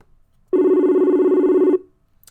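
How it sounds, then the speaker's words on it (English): A loud telephone ring with a steady buzzing trill sounds once for a little over a second, alone and close, then cuts off. "Can y'all hear the telephone ringing?"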